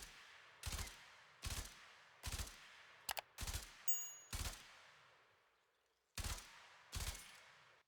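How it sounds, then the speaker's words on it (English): Bursten burst rifle fired in the Warframe video game, sharp three-round bursts repeating in a steady rhythm over several seconds, loud and close with no talking. "Here we have Bursten, and shooting with it may seem a little bit difficult because of the recoil"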